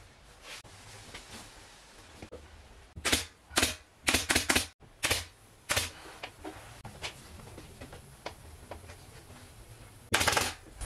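A staple gun fires into the webbing on a couch frame being reupholstered, a run of sharp, loud snapping shots in an uneven rhythm with a few quicker bursts, close to the microphone and with no talk.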